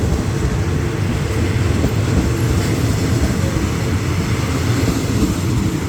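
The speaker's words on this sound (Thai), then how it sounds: "รถจักรหมายเลข4106นะครับ ขบวนรถเร็วนะฮะ" Express train 111 hauled by locomotive 4106 arriving at Lopburi station, a steady loud low rumble of wheels and engine rolling continuously close by, with no voices.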